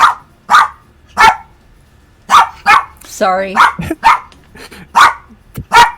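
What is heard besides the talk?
pet dog barking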